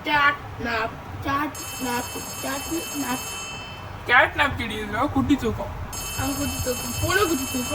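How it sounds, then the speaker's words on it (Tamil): A phone rings repeatedly in the horror toy game Poppy Playtime Chapter 3, a steady electronic trill heard in bursts beneath someone talking over it throughout. "ஃபோன் அடிச்சுது. அடிச்சதில்ல அடிக்குது."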